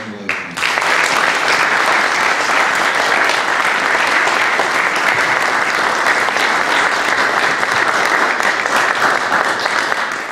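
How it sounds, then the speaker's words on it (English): Sustained, loud round of applause from an audience at a township board of education meeting, starting abruptly after a brief pause and holding steady as dense clapping for about ten seconds. "I'm sure we're going to give him that round of applause anyway"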